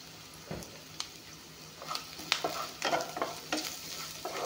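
Vegetables coated with red chilli powder fry in a pan while a spoon stirs them, producing a soft low sizzle broken by repeated scraping and clattering strokes that grow busier toward the end.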